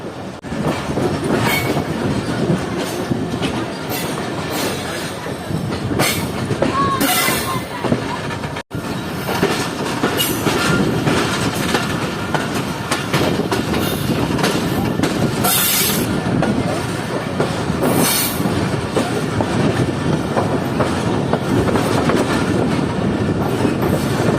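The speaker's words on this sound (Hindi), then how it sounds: "ये ट्रेन इस वक्त जो है वो प्लेटफॉर्म लाइन को छोड़कर मेन लाइन की तरफ बढ़ रही है, ट्रैक्स चेंज करते हुए।" Shah Latif Express train moving from a platform line onto the main line, wheels clattering steadily over track joints and points with a continuous loud rumble throughout.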